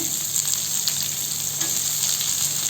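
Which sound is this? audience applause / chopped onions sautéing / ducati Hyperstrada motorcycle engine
chopped onions sautéing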